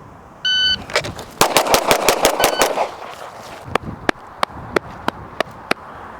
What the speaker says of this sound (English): I'm just going to launch a volley of rounds.